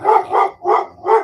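Several dogs bark at once nearby, a quick run of four loud, close barks with no talk over them.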